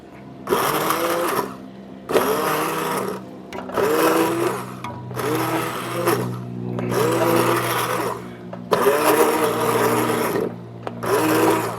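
A blender on low pulses through chunks of tomato for homemade tomato soup, running in about six loud whirring bursts separated by short pauses, with no voices.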